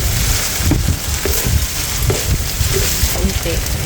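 Chicken pieces frying in oil for chicken pastil, a loud dense sizzle with bursts of crackle and stirring clatter, close up and steady throughout.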